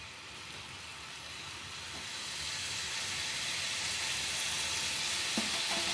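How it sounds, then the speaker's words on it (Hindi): Gujiya, a sweet filled pastry, dropped one by one into hot oil, frying with a steady, close sizzle and hiss that builds slightly and continues throughout, with a few faint clinks near the end. "तो एक एक गुजिया को लेते जाइए और इसे डालते जाइए।"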